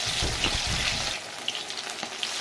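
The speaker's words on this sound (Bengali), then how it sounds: "এখানে আমি পাকোড়াগুলোকে এইভাবে তেলে ছেড়ে দিচ্ছি এইভাবে তেলে ছেড়ে দিয়ে লাল লাল করে ভেজে নেবো" Sago pakoras sizzle and bubble as they are dropped into hot oil. The frying is close and continuous, with a heavier rumble at the start that settles into a steady crackle.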